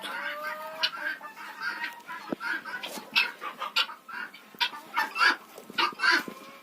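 Hens cluck repeatedly in a village chicken coop where guinea fowl also live, with short, uneven calls close by and no talking.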